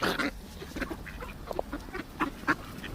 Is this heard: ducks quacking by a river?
yes